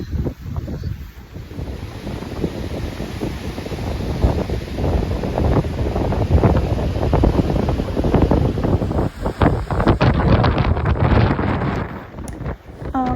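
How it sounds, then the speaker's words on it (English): Strong wind buffets the microphone in continuous loud rumbling gusts, with surf-like roaring underneath and no voices. "Man, I'm fighting the elements to bring you this footage. It's very windy."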